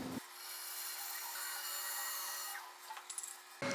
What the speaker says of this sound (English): We can then cut this out on the bandsaw, making sure that we leave the line so we can sand down to the line.